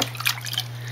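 Water splashes and drips gently as a baby is bathed, a short burst of light wet patters close by over a steady low hum.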